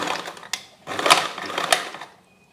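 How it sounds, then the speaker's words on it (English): A sewing machine stitches cloth in short bursts, its fast mechanical whir rising twice with brief pauses between, close and fairly loud with no talk. "I'm going to stitch again."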